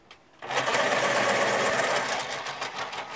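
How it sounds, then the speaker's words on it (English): A pencil is sharpened in a sharpener, giving a steady grinding whir that starts abruptly and runs evenly for about three seconds, close and fairly loud. "but I do need to sharpen this"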